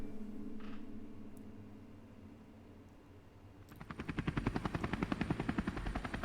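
Helicopter flying over the Khamar-Daban mountain range, faint and distant at first, then growing into a loud, rapid rhythmic blade thudding as it comes close.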